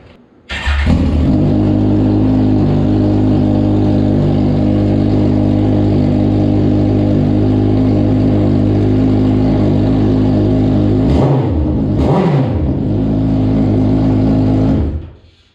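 A 2021 Kawasaki ZX14R with Voodoo open headers idles loud and rumbling after starting, then gets two sharp throttle blips near the end before shutting off, very close and dominant.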